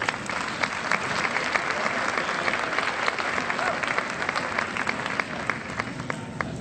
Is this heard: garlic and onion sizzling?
no